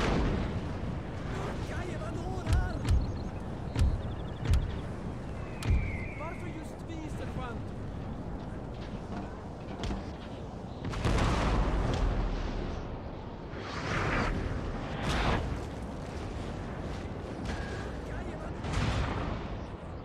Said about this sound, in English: Let's just hope a cannon shot or two can get in there and kill those guys.